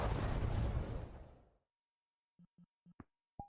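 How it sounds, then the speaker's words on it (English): A loud, booming explosion in VRChat rumbles and fades over about a second and a half, followed by silence and a few short, faint pops. "Explosions."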